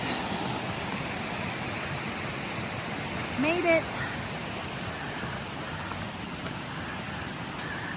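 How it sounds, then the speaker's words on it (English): A flood-swollen stream roars at the top of a waterfall on a New York trail the day after a severe flood. The rush is loud and unbroken, and one voice speaks briefly partway through. "Another flooded stream crossing."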